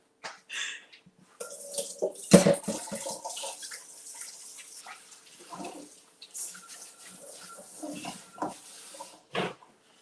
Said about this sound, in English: Let me rinse this off and wash my hands since we have raw meat.